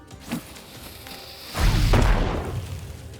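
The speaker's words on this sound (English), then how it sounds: "we are going to throw a bomb" A bomb explodes in the video game Wartales, a thrown device landing with a faint thump before a loud, deep boom that rolls out and slowly fades, with no talk over it.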